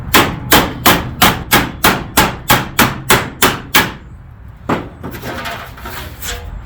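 Eleven sharp, evenly spaced hammer strikes ring out close by as sheet metal is bent for a Datsun B210 floor pan repair, followed by a pause and one more blow, then some rattling and scraping.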